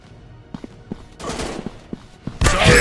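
Gunfire in an FPS robot shooting video game: scattered single shots at first, then a burst of rapid fire, ending in a loud sustained barrage.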